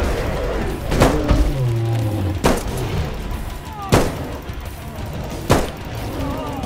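Four sharp gunshots ring out at spaced intervals in a snowy-park bigfoot hunting video game, each a loud crack over a steady background hum.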